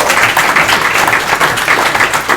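Students clap together in a sustained, dense round of applause at a school gathering, loud and steady throughout.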